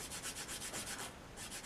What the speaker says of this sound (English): this is just the initial sanding stage